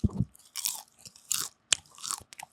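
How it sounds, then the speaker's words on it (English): Popcorn is crunched up close in several short, crisp bites separated by brief pauses. "I'm going to crunch the popcorn"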